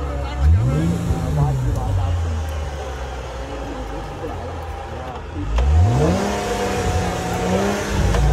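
A car engine revs on a steep, rough hill road in two rising pulls, one near the start and a stronger one later, with people talking over it.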